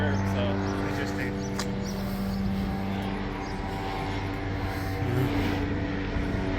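A helicopter drones overhead with a steady, loud engine hum and rotor tone that holds throughout.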